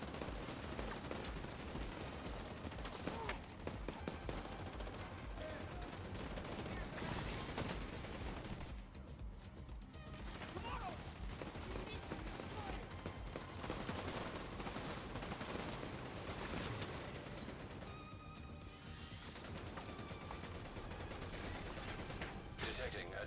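Automated turret fire in The Division 2, a dense, continuous rattle of gunfire layered over a busy game soundscape with talk running throughout.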